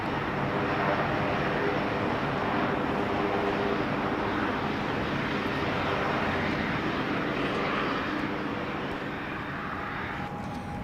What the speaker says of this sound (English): The Vimy, along with the Lockheed Constellation, flew into Farnborough to join a collection of historic aircraft